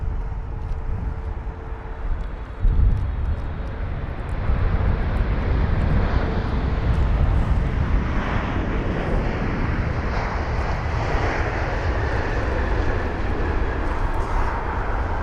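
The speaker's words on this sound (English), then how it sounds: "And this is going to be the Saudi 777-300ER from Riyadh" A Saudi Airlines Boeing 777-300ER arriving at London Heathrow, its engine roar swelling in after a few seconds into a broad, steady rumble and whine that stays loud as the jet passes.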